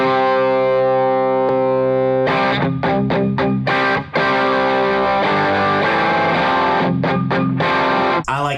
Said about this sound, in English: there's like a JFET boost in here after the drive, and it sounds huge